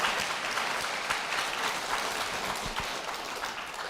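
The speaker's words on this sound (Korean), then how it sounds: "박수로 모시겠습니다." A church audience applauds to welcome a guest, a steady dense clapping that fills the whole moment at a fairly even level with no voices over it.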